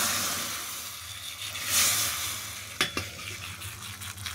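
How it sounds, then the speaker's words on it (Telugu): Horse gram paste (ulavakattu) goes into a hot tempering with asafoetida, bursting into a loud sizzle that settles into steady frying, with a couple of sharp spoon scrapes against the pot near the end; no one speaks. "ఇప్పుడు తాలింపులోకి ఈ ఉలవకట్టుని వేసేస్తాను."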